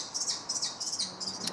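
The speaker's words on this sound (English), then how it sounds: "we've got the kestrel nest there with 2 chicks in." Kestrel chicks in a nest give a run of shrill, rapid calls, close and fairly loud, in short repeated bursts of chirps and squeals one after another.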